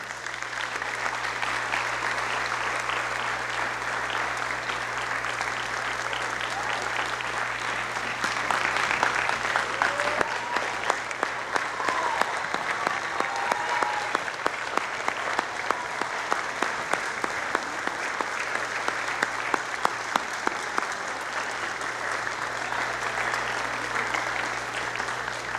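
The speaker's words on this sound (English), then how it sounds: "Round of applause, please." Sustained audience applause at a high school scholarship night, steady broadband clapping filling the room with sharper individual claps standing out in the later half, and a low constant hum underneath.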